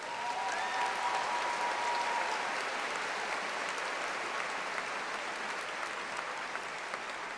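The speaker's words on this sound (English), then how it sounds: "Please join me in extending another round of applause for our doctoral graduates." Sustained audience applause at a spring university commencement ceremony honoring doctoral graduates, steady dense clapping from a large crowd filling the whole stretch without letup.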